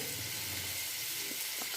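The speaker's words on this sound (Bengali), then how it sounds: "আজকে আমি উচ্ছে পাতা আলু দিয়ে ভাজা করছি" Potatoes and bitter gourd leaves frying in oil give a steady, close hiss of sizzling, with faint stirring underneath and no talk.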